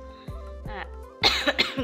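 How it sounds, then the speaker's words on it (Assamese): A person coughs in a few short, harsh bursts, close and fairly loud, with faint background tones underneath. "কিন্তু কাহ ধৰি গৈছে"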